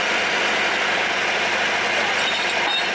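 A sugar cane train locomotive engine idles steadily and close, a broad even rumble holding its level throughout with no voices.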